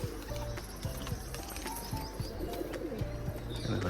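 Two pigeons sit inside a cage, giving soft cooing and rustling with faint tapping movements close by, a steady low murmur of bird sounds with no talk.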